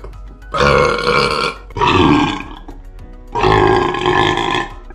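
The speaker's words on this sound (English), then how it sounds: "We want more burps." Three long, loud burps, close up, each a drawn-out rumbling belch with brief pauses between them.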